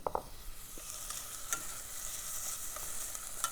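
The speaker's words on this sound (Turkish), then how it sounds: "Evet soğanı kavuracağım." Steady soft sizzling of onions frying in a pot for a winter vegetable soup, with a few light stirring clinks and scrapes throughout.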